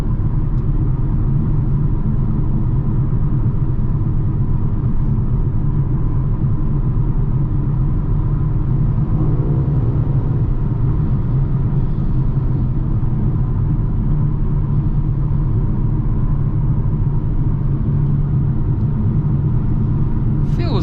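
A 2021 Mercedes-AMG GLA 35 SUV's engine drones steadily at night under a constant heavy road rumble, close and sustained, with a driver talking over it.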